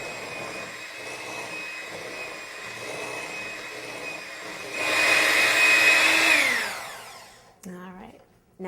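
Electric mixer whirring through Guinness cupcake batter as flour goes in, a steady motor whine that rises louder midway, then winds down and stops, with a short voice at the end.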